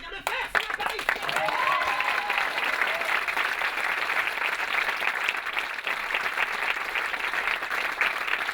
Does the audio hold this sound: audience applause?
yes